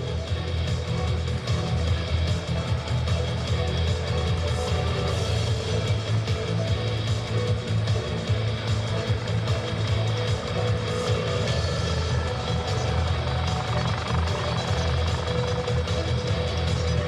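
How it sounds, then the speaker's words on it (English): MH-65D Dolphin helicopter of the U.S. Coast Guard flying during a search-and-rescue demonstration at an airshow, a steady loud rotor and turbine roar that holds without a break throughout. "the winch sticking out over the door of the MH-65D, the Dolphin helicopter."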